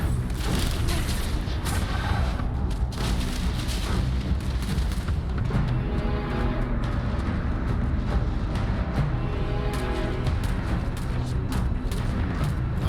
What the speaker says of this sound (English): Why is UC security shooting at me?